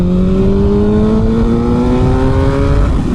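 Yamaha FZ1 motorcycle pulling hard in third gear around 5,000 RPM, a loud, steady engine drone rising smoothly in pitch under wind noise, close up and continuous with no talk.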